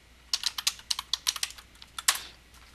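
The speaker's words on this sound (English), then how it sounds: "And we shall type in MiniTube." Quick typing on a computer keyboard in Linux software, a close run of about a dozen crisp key taps ending with a harder final press.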